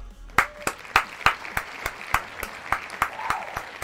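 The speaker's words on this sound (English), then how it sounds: "Let's just have a little clap." A small group gives a short burst of hand clapping, about a dozen distinct claps in a loose, uneven rhythm, fairly close and clear with no talking over it.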